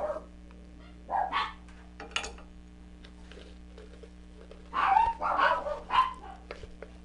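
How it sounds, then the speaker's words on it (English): Dogs, including a pug, bark in short bursts, a few sharp barks early, then a louder cluster of several barks near the end, indoors and fairly close. "Sorry, my dogs are gonna bark."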